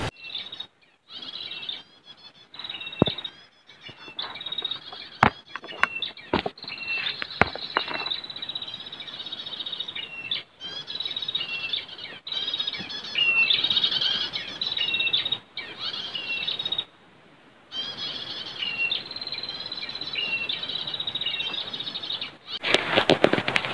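Prenjak birds in an oil palm plantation give steady high, thin chirping calls, broken by sharp flapping and rustling bursts at close range, with short quiet gaps.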